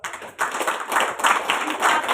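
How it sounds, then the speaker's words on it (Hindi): An audience at a workers' education awareness event claps together in a dense patter that starts abruptly and carries on steadily throughout. "जोरदार ताली बजाओ।"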